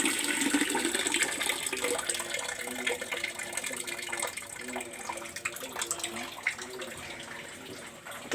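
A kitchen tap runs steadily with a broad, continuous rush of water, turned down to a smaller flow and left running rather than shut off.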